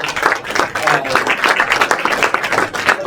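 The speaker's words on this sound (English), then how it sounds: "give them a round of applause while they come up here" Audience at a water resiliency forum applauds as panelists come on stage, a dense, steady wash of clapping lasting a few seconds with a voice faintly underneath.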